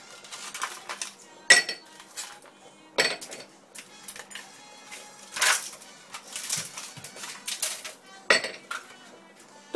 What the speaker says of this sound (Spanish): para mezclar vamos a poner 6 hielos.